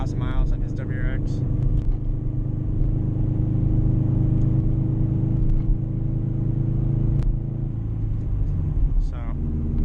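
A 2004 Subaru STI fitted with a used Tomei titanium catback exhaust drones with a steady, deep rumble heard from inside the cabin on a night drive, with a brief voice near the start.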